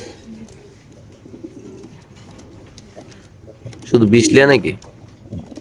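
BRPFC racer pigeons coo in a low, steady murmur while someone talks, and one louder burst of sound rises over them near the end.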